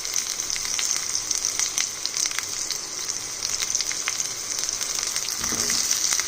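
Chopped onions go into hot oil after garlic and fry with a bright, crackling sizzle that stays steady and close for several seconds, full of tiny pops, with a brief low scrape toward the end.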